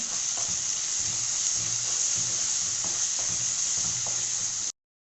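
Ginger garlic paste with turmeric sizzling steadily as it sautés in a hot pan for a chicken liver pepper fry, a continuous close frying hiss with faint stirring clicks, no voices, ending abruptly.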